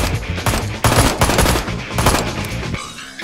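Rapid, loud gunfire from the Ride to Hell Retribution video game, a dense run of repeated shots in bursts that fades slightly at the close.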